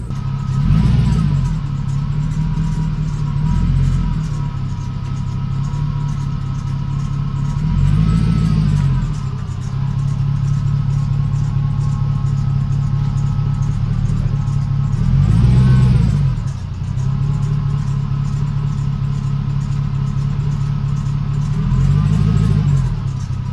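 A Chevy Tahoe's 5.3 LS V8 runs steadily up close while the truck is backed up a little and pulled forward again, with several gentle swells in engine note.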